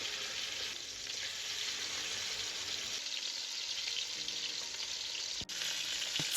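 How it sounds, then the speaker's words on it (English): Chicken pieces placed skin side down in hot oil for a Cameroonian chicken stew, giving a loud, steady, close frying sizzle that crackles continuously for several seconds, with a brief clink near the end. "Once the oil is hot, add the chicken skin side down. Now listen to that sizzle."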